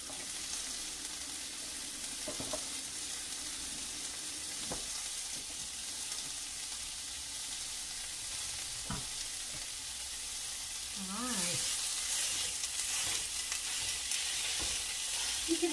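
Meat browning in a pan for Mexican lasagna, a steady soft sizzle throughout that grows louder partway through, with occasional faint utensil taps.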